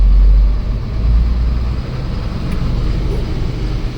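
Cummins diesel engine that sat for years, running just after its first start: a loud, steady low rumble close by, heaviest in the first half second, then settling into an even idle.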